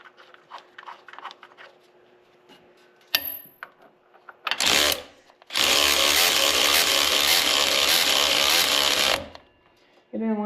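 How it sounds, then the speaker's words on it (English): An impact wrench drives a bolt that pulls a harmonic balancer onto a Jeep YJ engine, with a short burst followed by a loud, sustained hammering run of about four seconds, close by after some quieter handling noises. "now we can use a bolt to pull it in the rest of the way."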